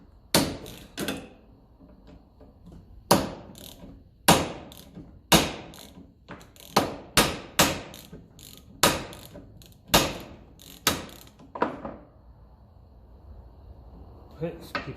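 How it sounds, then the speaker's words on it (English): Sharp metallic taps ring out in irregular groups as a nut is worked onto a threaded part of a 1954 Ferguson 20 TEF diesel tractor, close and crisp against quiet, with brief ratcheting between strikes. "just keep screwing on the nut and tap"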